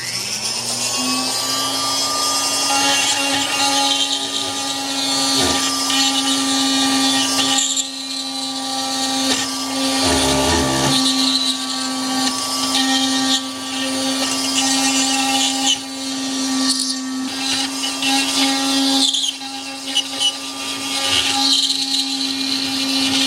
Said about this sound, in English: I've got my little Dremel or rotary tool.